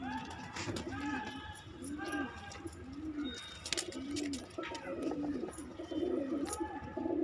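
Lal madrasi pigeons coo repeatedly nearby, soft low throaty calls rolling one after another in a steady rhythm.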